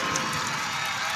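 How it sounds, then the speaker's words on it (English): Arena crowd at a women's college basketball game, Utah State against Boise State, a steady broad roar of cheering and applause filling the whole stretch, loud and continuous with no distinct voices. "the crowd is coming alive right now"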